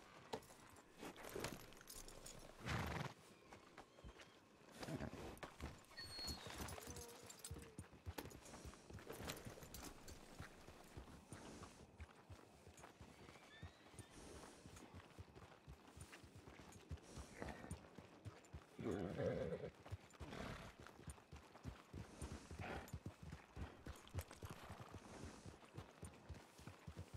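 A horse's hooves clip-clop faintly in the Western roleplay game Forajidos RP, with irregular hoofbeats and jangling tack sounding quietly over a soft background and no talk.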